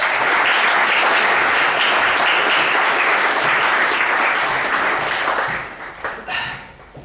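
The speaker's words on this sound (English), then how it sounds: "Give this lady a round of applause." An audience at a hypnotherapy demonstration gives a sustained round of applause, dense and loud throughout, then thinning and fading toward the end.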